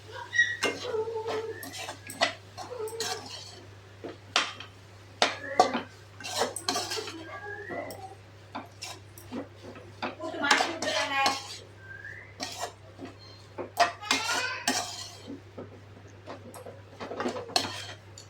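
Metal utensil scraping and clinking against a cooking pan while stirring in turmeric and salt, in irregular strokes, moderately close, over a steady low hum.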